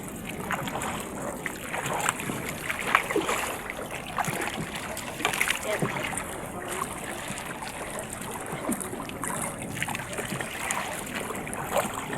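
Water splashes and laps steadily around a small boat nearing the shore, a continuous broadband wash with scattered sharper slaps and gurgles throughout.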